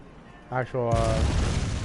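Cannon fire in the Bloodborne action game, a heavy booming blast that follows a brief harmonic whoosh and rumbles on loudly, with a voice speaking just before it.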